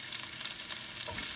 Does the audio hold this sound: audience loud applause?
no